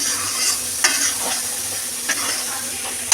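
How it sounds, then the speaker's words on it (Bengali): Spice paste frying in oil until the oil separates, for a fish curry, after potatoes were fried: a loud, continuous sizzle close by, broken by light stirring scrapes and taps. "মশলা ভাজা হয়ে গেছে, দেখুন দেখতেই পাচ্ছেন তেল ছেড়ে দিয়েছে।"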